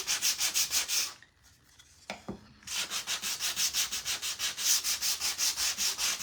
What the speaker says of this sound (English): almost done with the sanding